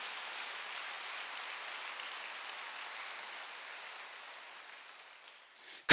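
Steady applause from a church congregation fills the room, a broad even patter that fades slightly toward the end before a sudden loud burst.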